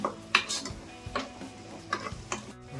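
Masala paste fries in oil in a pan as a spoon stirs it, giving sharp scattered scrapes and taps against the pan over a faint sizzle. The sounds are close and irregular, with no talk.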